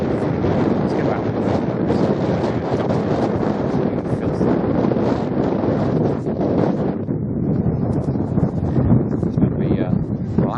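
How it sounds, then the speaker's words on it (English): Strong wind buffets the microphone in a continuous loud roar at a motorbike rally campsite, rough gusting noise filling the whole stretch with no clear voices. "it's super windy"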